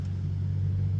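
A Mercedes C300 W205 with its exhaust muffler deleted rumbles steadily at low RPM while driving, a continuous deep drone heard from inside the car with no talking.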